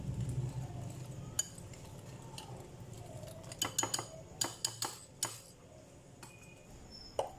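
Cheese crepe batter being mixed in a bowl: scattered sharp clinks, some single and some in quick clusters, ring out over a steady low kitchen hum with no one talking.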